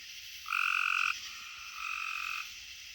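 Gray tree frogs call at night with two loud, steady trilling notes, a nearer one followed by a slightly fainter one, each about half a second long, heard without talk.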